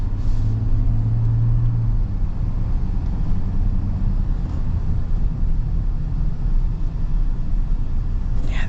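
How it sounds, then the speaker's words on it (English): A smooth, steady diesel engine hums at idle or low speed inside the cab of a 2026 GMC Sierra 1500 Denali, a constant low rumble with no talking. "And the diesel's very smooth."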